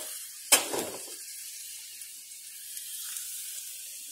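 Hot jaggery syrup for rava laddu poured onto semolina, a sharp sizzling splash at the start that fades quickly into a faint, quiet hiss.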